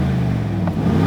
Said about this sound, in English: Aston Martin has tuned the exhaust for a very fruity sound, though if you need to be quiet it can be, so this is normal mode